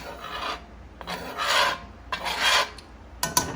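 A spoon scrapes the bottom of a pan of dry oven-baked roux in three separate, rasping strokes, each lasting under a second, with brief pauses between them. A few small clicks follow the last stroke, close and fairly loud.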